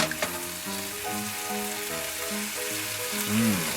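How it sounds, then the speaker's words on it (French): Soy sauce hits an oiled pan to deglaze while grilling filling for vegan tacos, a close, steady sizzle under a faint background tone with a few stirring taps. "Attention, on va déglacer la sauce soja."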